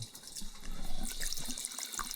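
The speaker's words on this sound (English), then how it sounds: "this is my faucet in the restroom. I got cold running water." A bathroom faucet in a house runs cold water into the sink, giving a continuous splashing hiss at close range with small fluctuations and no talking.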